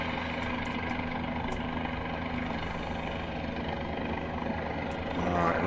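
Guimbal Cabri helicopter engine flying over New York in Microsoft Flight Simulator, a steady, loud rotor and turbine drone with constant whine that holds unbroken throughout, rising slightly at the end.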